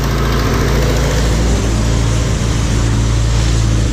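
A Honda Integra GSR engine idles, its exhaust routed out a door through intercooler piping and couplers. A loud, steady, low rumble runs without a break and no one speaks.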